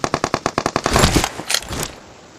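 Automatic gunfire in the mobile battle-royale game PUBG Mobile: a rapid, loud burst of about a dozen evenly spaced shots, then a denser ringing volley and a couple of trailing cracks.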